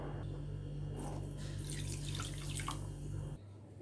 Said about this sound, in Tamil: அதே அளவு 2 கப் இதில் தண்ணி சேர்த்துக்கலாம்